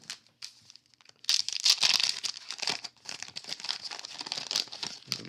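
A Friday-night rip of an old-school baseball card pack, the wrapper crinkling and tearing close up in a busy run of crackling bursts that swell and settle, with no talk.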